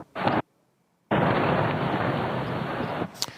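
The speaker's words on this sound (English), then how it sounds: "Explosion" Bombing of the Iraqi capital in the night, a loud blast followed by a brief silence, then a long, heavy roaring rumble that fades slightly before a final crackling pop.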